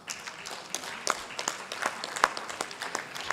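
Applause for an award winner at the Uganda Diaspora Convention 2025, a thin spread of individual claps from a small audience, moderate in level and fairly sparse.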